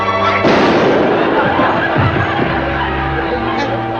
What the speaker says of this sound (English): I didn't mean to shoot you, Joe.